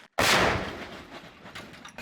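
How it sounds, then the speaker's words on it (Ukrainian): A single heavy boom of an artillery gun firing a shot bursts out, then a long rumbling decay and a few faint distant cracks fading away outdoors. "Гармата! Постріл!"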